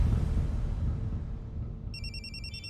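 A phone ringtone starts near the end, a repeating electronic melody over a low background hum.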